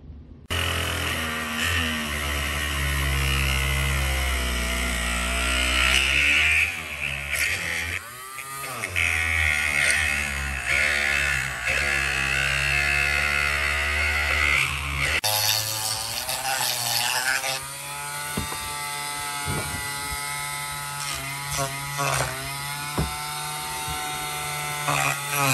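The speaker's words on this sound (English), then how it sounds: "I'm going to use this Ryobi Dremel tool here to cut that down" A Ryobi rotary tool whines at high speed while cutting a plastic battery box lid, its pitch dipping and rising as it bites into the material, loud and close, with a brief break midway before cutting resumes.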